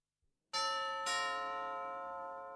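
A doorbell rings out clearly in a quiet room: two bright, resonant chime strikes in quick succession, the second ringing on and slowly fading.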